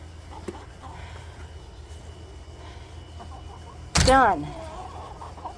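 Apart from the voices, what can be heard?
chickens clucking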